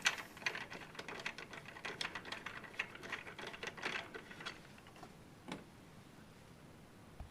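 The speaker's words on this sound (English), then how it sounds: "I'm using a number 20 Torx driver for this." A number 20 Torx driver turns a screw into the heatsink tab of a Solis inverter's mounting bracket. Close, rapid ratcheting ticks tap out a steady rhythm and fade slightly toward the end.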